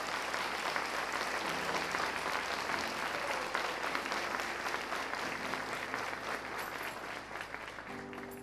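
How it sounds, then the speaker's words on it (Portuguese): A church congregation applauds during a sermon, a continuous crowd clapping that stays even and sustained from start to finish, heard at a moderate distance with faint voices beneath. "Pode aplaudir o Senhor."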